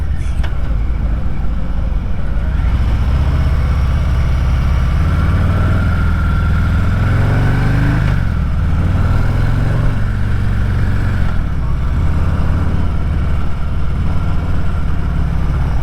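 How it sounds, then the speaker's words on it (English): A Harley-Davidson Heritage Classic with the 114 engine rumbles loudly and steadily while riding, its deep engine note rising and dropping through gear changes around the middle, with no talk over it. "you get them loud old shifts as it's going down into gear"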